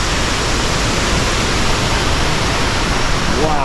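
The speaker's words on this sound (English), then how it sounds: "The waterfall in the distance there" Steady broadband rush of a distant waterfall in Bali, a continuous even roar with no breaks, heard from afar across the whole stretch.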